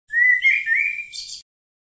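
A single bird gives a short, clear whistled chirp of about a second and a half, close and alone against silence.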